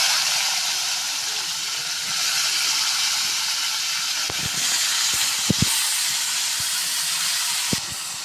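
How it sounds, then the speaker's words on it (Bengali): A pressure cooker vents steam in a home kitchen during cooking. A steady, fairly loud broadband hiss runs throughout, with a few sharp clicks and knocks near the end. "আমি কুকারগুলো দিয়ে দেবো।"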